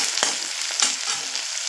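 Minced onion frying in hot oil in a pan hisses steadily up close, with a few brief scraping stirs breaking through the sizzle.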